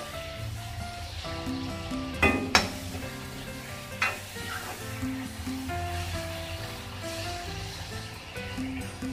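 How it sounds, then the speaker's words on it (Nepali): Tomatoes sizzling as they are stirred in a pan of tofu curry, a steady close fry with a couple of sharp spoon knocks against the pan and soft scraping throughout, no voices. "टमाटर राखेर राम्रोसँग चलाउँछु।"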